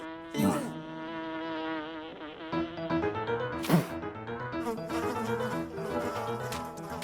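A bee buzzes in a Hindi family sitcom scene, a close, droning hum that wavers in pitch and swells louder in a couple of sudden passes, with no talk over it.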